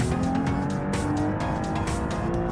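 Rally car drifting uphill on Pikes Peak in BeamNG, engine droning loudly and continuously with tire squeal and gravelly skidding layered on top, no speech.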